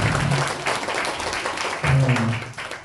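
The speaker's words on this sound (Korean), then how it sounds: "박수로 환영하겠습니다." A church congregation claps in welcome during a Sunday service, a short burst of hand applause over a few seconds with murmured voices and some low sound mixed in.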